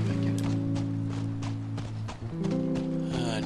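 Horse hooves clip-clop at a steady walking pace in the video game The Last of Us, set over a bed of sustained music tones, with no talking.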